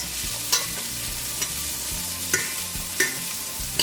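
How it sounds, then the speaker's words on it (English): Onions softening in olive oil in a pan, a steady close sizzle under intermittent stirring scrapes and light utensil taps, heard alone without talk. "And then I'm gonna add in my onions. And I'm gonna just cook these until they are softened or translucent."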